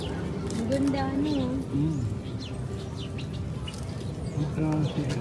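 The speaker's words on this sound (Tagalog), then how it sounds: "Ibon talaga siya." Birds, pigeons or doves among them, call outdoors on a family outing. Faint chirps and warbling cooing sit under a steady wash of background noise and nearby talking.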